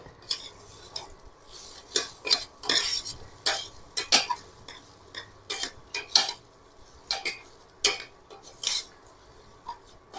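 Vegetables for a vegetable biryani frying in a pot, with repeated sharp metallic scrapes and clinks of a spoon against the pan at an uneven rhythm over a faint, steady sizzle, close and without talk.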